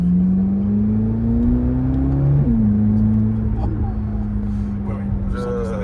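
A Corvette V8 with a supercharger and open exhaust drones and rises in pitch, heard from inside the car as a steady loud engine note that climbs and then settles, with people talking over it.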